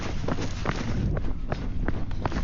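Hurried footsteps of a person running along an isolated trail, steady fast thuds close to the recorder over a constant rushing background, with no speech.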